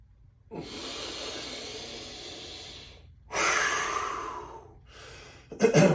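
A person does forceful exhales during an abdominal breathing exercise: two long, loud, close breaths blown out through the mouth, each lasting a few seconds with a brief pause between, followed by a shorter puff and a sharp snorting breath.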